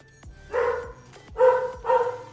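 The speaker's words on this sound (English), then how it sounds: "You'll hear dogs going crazy for a little while" Dogs barking excitedly at home, three distinct loud barks spaced close together, near and clear with quiet gaps between them.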